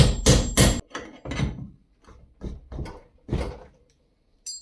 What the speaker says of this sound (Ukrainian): два цвяха забив, вибив